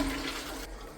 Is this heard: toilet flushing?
yes